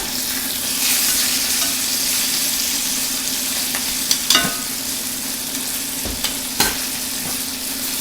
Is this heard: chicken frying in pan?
yes